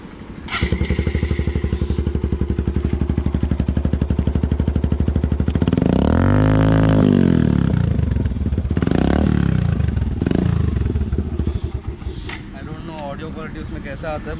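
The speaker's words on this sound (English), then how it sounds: "So I got the same looking exhaust with better sound and better bass. Let me switch it on and show it to you." Modified Suzuki Gixxer SF motorcycle with an aftermarket long-can exhaust starting up and idling loudly, then revving hard in a rising and falling sweep near the middle, followed by a second shorter rev and a bassy, throaty idle close by.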